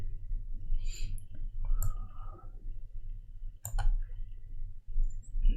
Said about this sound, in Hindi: शिफ्ट दबाया, राइट क्लिक किया